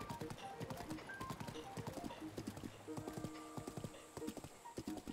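Horse hooves clip-clopping in a Zelda video game while riding, a quick steady rhythm of fairly close hoofbeats over faint background music and ambience.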